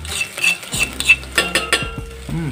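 Spices stirred into hot frying oil with a utensil clinking and scraping against the pan in quick close strokes, while a faint sizzle sits underneath and no one speaks.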